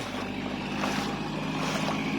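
A rice transplanting machine working in a paddy field, its engine droning steadily and fairly close, with a rough, windy texture and no talking.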